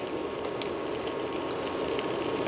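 A pot of seafood pinakbet bubbles at a steady boil, a dense continuous simmering texture with no distinct breaks, fairly loud and close with no talk.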